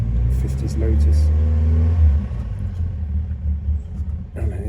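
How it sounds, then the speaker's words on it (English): An old 1950s Lotus car rumbles past with a loud low engine drone that swells and then fades, followed by a softer rumble and a brief later burst of noise. "I think this is a car, not a motorbike. I think this is a Lotus, an old 50s Lotus."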